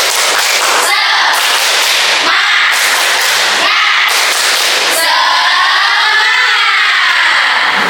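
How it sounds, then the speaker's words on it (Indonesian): A class of children performs a rhythmic cheer clap, sharp bursts of group clapping in a repeated pattern with a few pauses, then a longer run of loud, bright applause. "Tepuk semangat."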